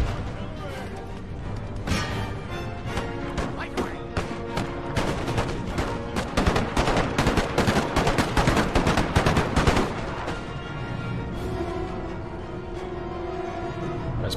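Line infantry volleys in Empire: Total War, a dense crackle of massed musket fire that swells to a loud peak midway and then eases, layered over battle noise and music with a voice talking over it.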